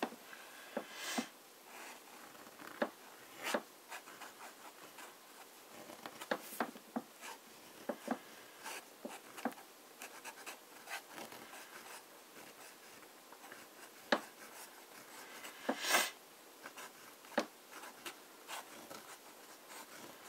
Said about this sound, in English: the last thing we should do is a bit of flex writing